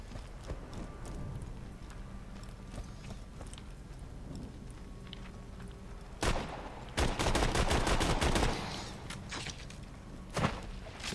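Gunfire from a low-damage gun in a fight in Tiny Tina's Assault on Dragon Keep: scattered single shots, then a dense rapid volley of fairly loud bursts, over a steady game background.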